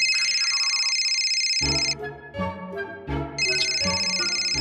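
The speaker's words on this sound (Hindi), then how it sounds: "इतनी बार फोन काटा फिर भी बार बार फोन किया जा रहा है।" A phone rings with a loud, bright electronic ringtone that repeats in a steady looping pattern and plays on its own without any talking.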